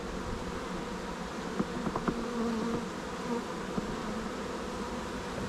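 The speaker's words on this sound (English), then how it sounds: "And this is still a busy hive," A busy honey bee hive buzzes steadily at low level, a continuous close drone of many bees with a few brief louder passes by individual insects.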